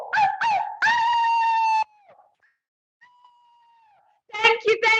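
People let out drawn-out wolf-like howls, one long sustained howl followed by quieter trailing calls and then a burst of further howling, voices imitating wolves in a group.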